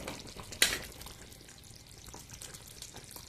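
Brinjal masala curry simmering in oil, a low steady sizzle and bubbling throughout, with one sharp brief clatter near the start, probably a utensil against the pan.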